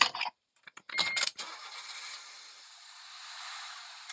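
A Honda car cranks over after a few clicks and catches, its engine firing and settling into a steady idle that sounds close by.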